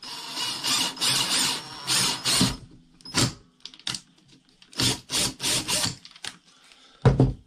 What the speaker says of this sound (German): Bauen wir ein kleines Loch rein, dann geht das Kabel hier vorbei, der Kabelbinder geht da durch